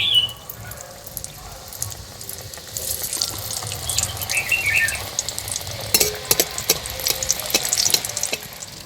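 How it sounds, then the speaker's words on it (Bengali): Flour and sugar pitha frying in oil sizzle steadily throughout, joined by intermittent scraping and stirring clatter from a utensil in the pan. "এইভাবে করে সবগুলো ভেজে নেব"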